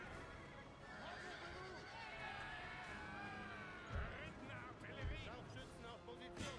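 Horses whinny and neigh amid clattering hooves and a busy, chaotic mix of battle noise in the video game Napoleon: Total War, moderately loud.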